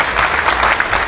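An audience applauds at an evening kavi sammelan poetry gathering, a brief burst of lively, close clapping that carries at full strength through the whole moment.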